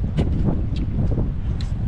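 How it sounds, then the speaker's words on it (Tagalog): Wind gusting outdoors during a rainstorm with thunder about, buffeting the microphone in a steady, rough rush with brief brighter gusts, no voices heard. "Alay. Hangin no?"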